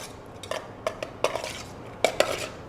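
Ingredients being mixed in a bowl after adding white wine vinegar and olive oil, giving a handful of light clinks and scrapes of a utensil against the bowl, spaced irregularly and fairly quiet, with no talking.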